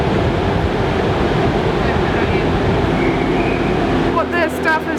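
A broken-down train sits at a station amid a steady, loud rumble of rail and engine noise, with faint higher tones near the end and a voice speaking over it.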